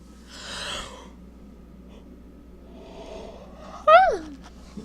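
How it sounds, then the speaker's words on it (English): A person gives a long, breathy yawn near the start, followed by quiet and then a brief voiced, sighing sound, all close and fairly soft. "Sorry for yawning, as per usual."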